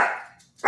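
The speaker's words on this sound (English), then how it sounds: "Sorry about my dog." A pet dog indoors barking toward the door, one loud close bark fading out, a short silence, then a second bark starting.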